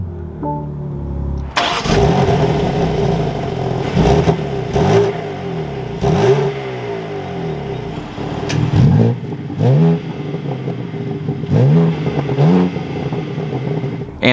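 A 2023 BMW M3 with a manual gearbox cranks and fires up loudly, then settles into a rough idle broken by a series of sharp throttle blips that rise and fall, heard close with no talking.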